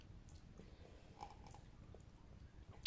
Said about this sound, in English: Sorry for the chewing.